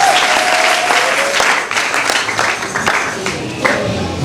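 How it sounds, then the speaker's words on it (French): A church congregation applauds together during a service, a dense, loud, steady wash of clapping that carries through the whole stretch with only slight dips in intensity. "On peut acclamer le Seigneur."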